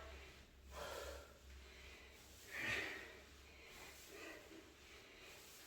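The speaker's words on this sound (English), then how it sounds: "you hear me panting a little bit" Heavy, rhythmic breathing during a progressive bodyweight workout, with quiet huffs and one sharper, snort-like exhale in the middle, all close and faint.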